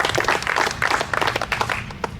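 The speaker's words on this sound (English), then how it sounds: "Give them a big round of applause." Audience applause at the 100th GAM Championship golf event at Franklin Hills Country Club in Michigan, a sustained wash of many hands clapping at moderate loudness for a couple of seconds, tapering slightly at the end.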